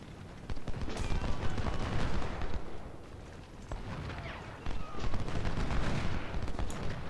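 Cannon and artillery fire in the Ultimate General: Civil War game at the Antietam battle, a dense, continuous barrage of overlapping booms and cracks with brief lulls, loud and close.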